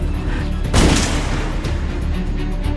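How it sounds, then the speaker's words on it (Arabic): A single sharp gunshot cracks out over a steady background rumble, then the low ambient noise carries on without further shots. "صوت رصاص؟"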